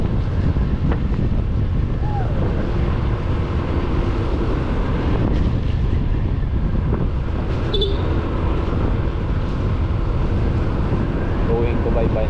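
Strong wind buffets the microphone on a beach at Roxas City while waves crash and wash steadily, a loud constant roar with occasional faint higher sounds.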